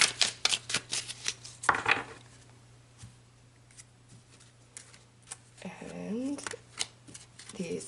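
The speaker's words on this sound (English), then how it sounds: "Let's pull some message cards." Message cards are shuffled in quick riffling bursts, close and crisp, then quieter handling follows while a person speaks.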